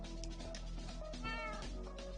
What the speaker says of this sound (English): So we have a few cats.